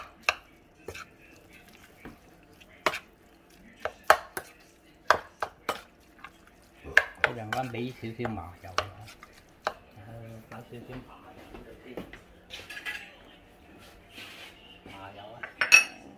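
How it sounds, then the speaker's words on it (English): Beef curry puff filling is stirred in a bowl or pan, giving scattered sharp clinks and scrapes of a utensil, sparse at first and then busier, with a soft sizzle partway through. "And just mix it all in."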